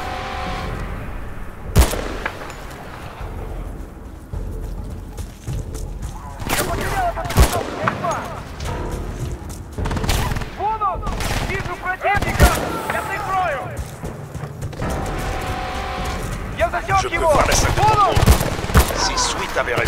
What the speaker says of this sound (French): Tire de couverture!